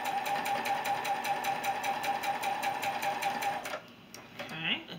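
A sewing machine stitches a quilt block seam in a fast, even mechanical whir with rapid rhythmic ticking. It is close and loud, then stops abruptly near the end, leaving quiet handling noises.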